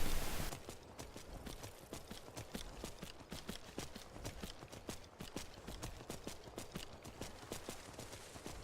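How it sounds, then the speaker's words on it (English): Horse hooves clip-clopping steadily in Skyrim, a regular galloping rhythm of sharp hoof strikes over a soft outdoor bed, continuous and fairly close, with no talk. "Riding my horse."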